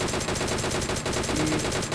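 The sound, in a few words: gunfire in a video game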